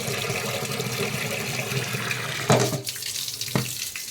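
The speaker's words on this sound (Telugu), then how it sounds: "వాటర్తో టూ టైమ్స్ బాగా శుభ్రం చేసుకుని" Soaked millet grains being washed with tap water for dosa batter in a home kitchen sink; a continuous close stream of running water, with two sharp clatters of the vessel near the end.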